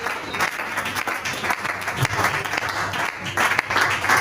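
Church congregation applauding and acclaiming during a worship service, a dense, continuous roar of many hands clapping throughout, loud and unbroken.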